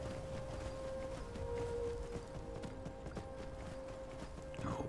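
A horse's hooves clip-clop at a steady walking rhythm in modded Skyrim, moderately close but fairly quiet, alongside a constant background hum, with no talking.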